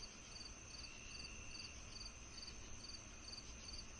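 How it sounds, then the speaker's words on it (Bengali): Crickets chirp in a steady, evenly pulsed rhythm over faint background hiss on a dark, still night near a garden, soft and continuous with no voices. "শুধু ঝিঝি পোকার ডাক"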